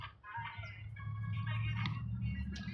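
Birds call outdoors in downtown Las Vegas, a few clucking, fowl-like calls rising and falling in short phrases over a steady low background rumble, fairly close and clear.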